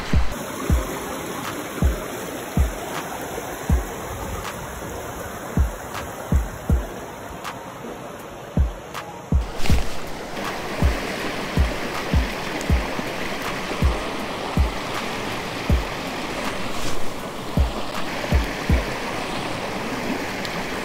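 A mountain stream in winter flows steadily with a broad, continuous rush of water close by, joined by repeated soft knocks and taps throughout.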